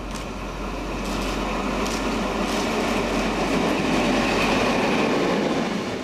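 A red class 212 locomotive rolls past at close range, its loud, steady rumble of wheels on rail with rhythmic clatter holding throughout without fading.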